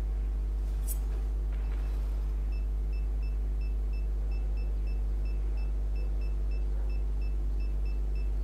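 Bomb being planted in the shooter game Zula: a steady series of short, evenly spaced high electronic beeps ticking over a low constant hum, fairly faint and with no talk.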